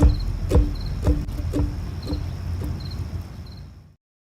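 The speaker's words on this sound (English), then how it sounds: "with the sound of the cricket, that means it's another edition of Bookmark" Cricket chirps used as a show's intro cue come in short repeated bursts at a steady interval, close and fairly loud over a rhythmic low thumping that fades out near the end.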